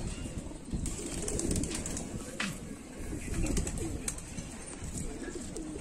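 Pigeons coo on a rooftop loft in R.S. Pura, Jammu, with soft repeated coos and occasional wing flutters over a steady outdoor murmur.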